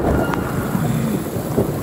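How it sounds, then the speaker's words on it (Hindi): Heavy rainstorm with strong wind, a loud continuous roar of rain and gusts battering close to the microphone. "बस मैं चाहता हूँ यार जल्दी से बारिश रुक जाए"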